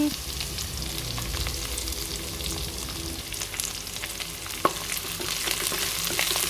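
Onion and shredded cabbage frying in a pan, a continuous crackling sizzle with occasional scrapes and taps of a stirring utensil, close and steady, one sharper knock partway through.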